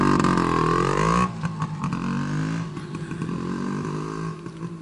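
A 1981 Suzuki TS185 motorcycle engine revs up hard with a rising whine, then drops back to a rough, uneven idle with throttle blips, loud and close, with no voices.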